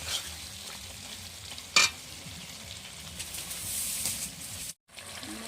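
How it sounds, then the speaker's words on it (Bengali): Chicken curry meat with its released water frying off in a pot, stirred with a soft continuous sizzle and scraping, one sharp utensil knock near the start of the stirring. "আমি এখন নাড়াচাড়া করে মাংসটার জলটা বেরোবে, ওই জলটা আমি শুকিয়ে নেব"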